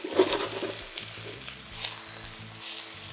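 Garlic honey chicken sizzles and fries in a wok during a low-carb stir fry, with a steady crackling hiss and occasional tossing clatter, fairly close and with no talk over it.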